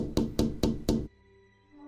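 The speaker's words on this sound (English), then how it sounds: "And then, a soft tapping at the window." Four soft, evenly spaced knocks sound on a window pane, close and distinct, then stop, leaving quiet room tone.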